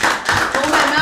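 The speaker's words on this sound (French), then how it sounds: "On l'applaudit." Audience applause at a French student quiz show, a short burst of dense clapping heard close and loud alongside voices.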